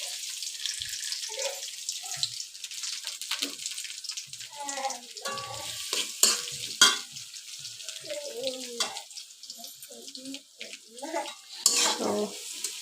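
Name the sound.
chopped onions frying in mustard oil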